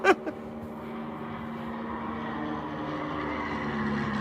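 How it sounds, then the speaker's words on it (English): A small single-engine airplane passes overhead in rural Dade County, Georgia, where there is no airfield. A steady, fairly distant engine drone holds throughout, with a brief click at the start. "That's an airplane."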